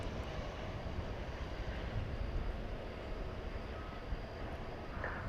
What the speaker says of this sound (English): American 3111 from Austin, Texas, is about to land